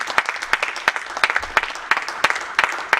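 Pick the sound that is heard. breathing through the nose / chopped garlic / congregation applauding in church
congregation applauding in church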